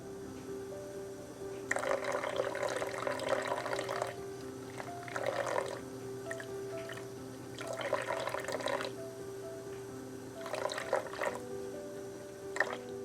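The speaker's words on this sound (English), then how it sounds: "I put him back under the faucet and rinse off the shampoo from his hair." Shampoo is rinsed out of a doll's hair under a running faucet, heard as about four intermittent bursts of splashing tap water over a steady low background hum.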